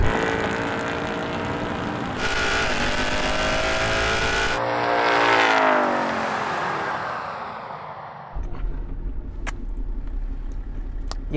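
A Mustang V8 and a BMW M2 run a drag race, engines roaring loudly as they accelerate through rising gear pulls. The sound shifts and fades before a deeper rumble returns nearby.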